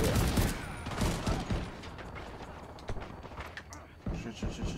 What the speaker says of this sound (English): Gun sound effect.